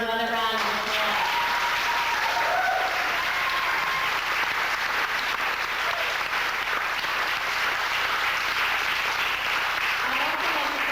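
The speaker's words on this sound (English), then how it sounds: "they deserve another round of applause" Steady, dense applause from a school concert audience cheering a group of young performers, a continuous wash of clapping that holds at full strength for about eleven seconds.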